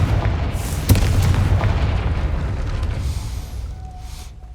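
A Confringo fire spell in Hogwarts Legacy bursts with a sharp explosive boom near the start, followed by a rumbling roar that slowly fades, loud and close with no talk.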